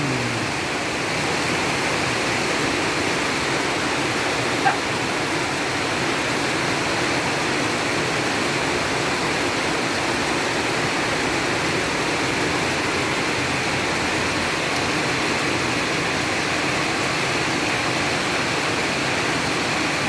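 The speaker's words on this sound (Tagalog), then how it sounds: "Yan, lakas ng ulan." Heavy rain pours steadily in a rural Philippine setting, with thunder also reported. A dense, constant broadband hiss stays loud and unbroken throughout, with one brief sharp tap near the middle and no talking.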